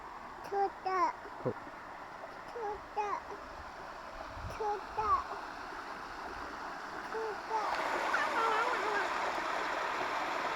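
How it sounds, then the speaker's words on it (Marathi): Water rushes steadily in a small forest stream near a temple while birds chirp and voices speak briefly over it; the flow grows louder toward the end. "इथे ओढा आहे छोटासा"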